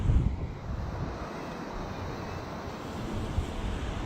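Gusty wind buffets the microphone outdoors while a Parrot Mambo drone flies, a loud continuous rumbling roar with a couple of stronger thumps at the start and near the end, and no talk.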